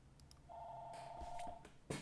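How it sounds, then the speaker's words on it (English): A phone gives a single faint electronic ring, a steady tone lasting about a second, against quiet room noise. "And my phone rings."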